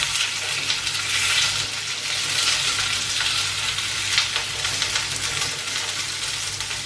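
Food sizzles and fries steadily in a pan on a basic home kitchen stove, cooking through and browning as part of a teriyaki salad with Parmentier potatoes, a constant close crackle with no talking.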